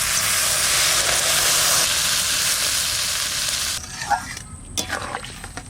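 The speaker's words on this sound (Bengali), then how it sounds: "এবার জল দিয়ে দেবো।" Village-style chickpea dal with fried potatoes and chopped coriander sizzles loudly in a pan until water is poured in. The hiss then drops sharply, leaving quieter bubbling and a few clinks.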